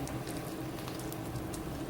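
Water boiling in a pressure cooker pot of mutton rassa curry, a soft, steady bubbling and patter heard up close with no talking.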